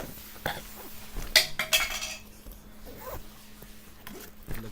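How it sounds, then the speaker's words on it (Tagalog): A bag zipper is pulled shut in a few quick rasping strokes close to the microphone. Light clinks and handling rustle follow, all fairly close. "Ang hirap magsara ng bag kapag may hawak na camera."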